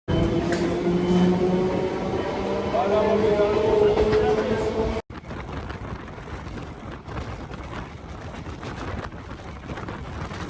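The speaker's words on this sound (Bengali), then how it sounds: "আমাদের ট্রেন ছেড়ে দিচ্ছে রানাঘাট স্টেশন থেকে" A Sealdah–Gede local train departing Ranaghat station rumbles and clatters, with tonal squeals in the first half, then a cut to steady rushing wind and track noise from inside a moving carriage.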